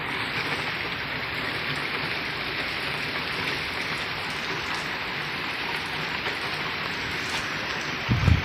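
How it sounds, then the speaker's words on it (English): Steady rain falls outdoors as a dense, even hiss of drops on surfaces, constant and moderately close, with a brief low thump near the end. "Y'all, it's raining."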